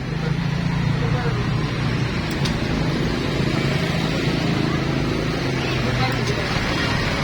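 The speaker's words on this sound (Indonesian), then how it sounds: "Oke, motor udah nyala." A Honda Vario 150 fuel-injected scooter idles steadily after starting during a service, its even, low engine hum and faint harmonic drone continuing close by without a break.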